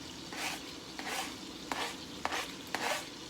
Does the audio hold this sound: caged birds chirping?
no